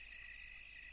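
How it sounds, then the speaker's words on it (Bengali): Crickets chirp in a faint, continuous high-pitched drone by a deserted riverbank at night, steady and unbroken with no voices or other sounds. "নদীর পাড় থেকে ভেসে আসছে ঝিঝি পোকা আর শেয়ালের ডাক।"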